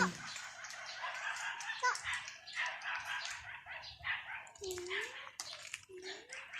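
Several dogs bark and yip nearby, with a whimpering whine rising near the end, while people talk over the commotion.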